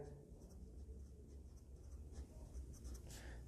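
Pen or pencil scratches faintly and steadily across paper while a child's elementary math word-problem clues are copied out by hand, a soft continuous rasp with low room noise beneath.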